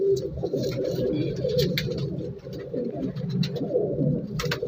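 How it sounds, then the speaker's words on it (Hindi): A Teddy pigeon coos at a Shahdara bird market, soft repeated throaty coos close by over a continuous murmur of other birds, with no talking. "ये टैडी कबूतर है, बहुत अच्छा कबूतर है"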